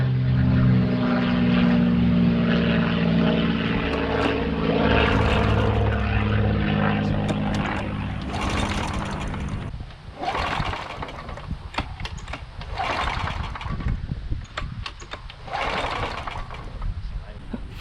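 A 20-year-old lawn mower's small engine running steadily after starting on the first pull, a loud continuous buzzing drone that roughens and fluctuates in the second half.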